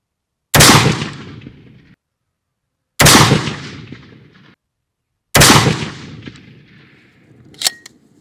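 Three loud, sharp rifle shots from a Wedgetail MPR firing Fiocchi EPN 60 grain ammunition, spaced about two and a half seconds apart, each with a long echoing decay outdoors, followed by a faint metallic clink.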